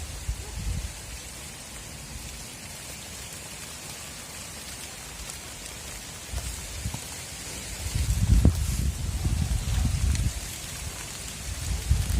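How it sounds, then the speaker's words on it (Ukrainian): Light rain patters steadily outdoors in a garden with strawberry plantings, a soft continuous hiss with occasional louder drips and rustles building in the later seconds, with no voices. "Так, дощик трохи припинився, то думаю, зніму вам."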